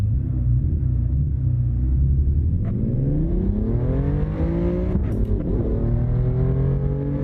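A Mercedes engine in Assetto Corsa heard from the cabin, a steady low drone that climbs in pitch as it revs up, dips briefly, then rises again, loud and continuous.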